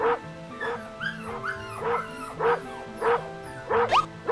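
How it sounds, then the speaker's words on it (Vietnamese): A neighbor's dog in an animated cartoon barks and whimpers, repeated yelps and whines in a steady rhythm, close and clear with a faint music bed. "Con chó của gã hàng xóm, sao nó lại ở đây?"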